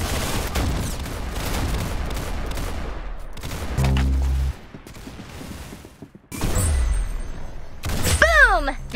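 Gunfire in the Roblox shooter Arsenal on the DustStorm map during competitive play, loud clattering bursts and a single heavy boom, with a voice talking through much of it.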